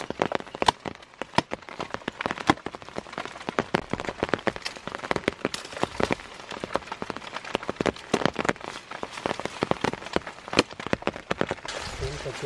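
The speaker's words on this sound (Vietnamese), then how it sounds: "Mưa không ngớt." Rain falls steadily outdoors at a rural home where palm leaves are being cut for cooking chicken, a dense patter of drops that hits close and loud for the whole stretch.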